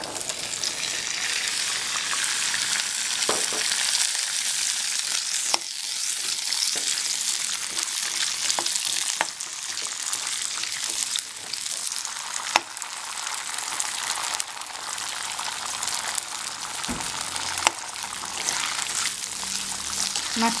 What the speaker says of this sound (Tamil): அதில் கொஞ்சம் எண்ணெய் சேர்த்து நம்ம இந்த 1 கப்பு சின்ன வெங்காயத்தை போட்டு வணக்கிக்கலாம்